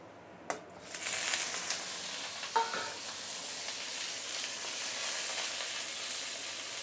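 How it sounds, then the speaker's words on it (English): Pork belly sautés in a pan with a steady, hissing sizzle as its fat renders, preceded by a couple of sharp clacks as it is stirred, close and even throughout. "We're going to saute the pork belly for a couple of minutes to brown it a little bit and also to allow some pork fat to render out."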